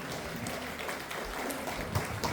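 Audience clapping for a comedy artist at a fortnightly gathering, a moderate, continuous patter of hands under a noisy room.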